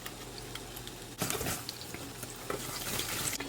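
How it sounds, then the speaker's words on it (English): A whisk stirs egg into apple cider donut batter in a bowl, a close, busy run of wet clicks and swishes that grows slightly livelier partway through, with no talking. "I'm gonna add in my egg and whisk until that's incorporated"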